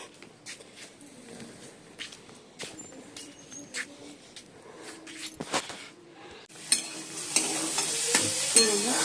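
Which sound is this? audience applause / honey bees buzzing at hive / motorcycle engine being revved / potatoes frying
potatoes frying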